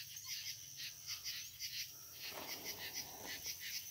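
Insects chirp in a steady pulsing rhythm at night in the countryside, a continuous high trill repeating several times a second, faint and constant throughout.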